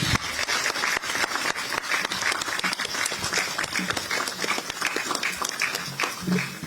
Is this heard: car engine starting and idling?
no